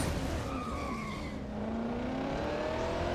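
A race car in the Real Racing 3 video game brakes too late into a corner, tires skidding and squealing over a steady engine drone, loud and continuous throughout.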